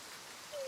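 Steady rain shower in a children's story, a soft even hiss of falling drops filling the whole short moment, with a brief faint tone near the end.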